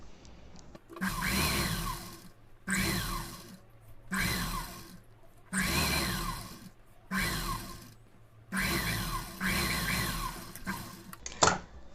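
Sewing machine stitching a princess-cut blouse, running in about six steady bursts of whirring with short pauses between, close and clear with no talk.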